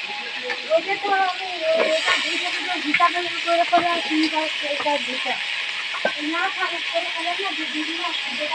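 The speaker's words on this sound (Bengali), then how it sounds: "এবার আলুগুলোও কিন্তু আমি হালকা করে একটু ভেজে নেবো।" Potatoes frying lightly in hot oil give a steady hiss and sizzle, with stirring scrapes throughout and a voice talking over the top.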